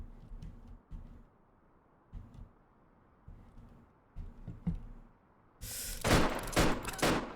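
Enemy gunfire in the shooter Apocalyptic Vibes: short, faint bursts of shots repeat roughly once a second, then a much louder, sharper volley of close cracks breaks out near the end.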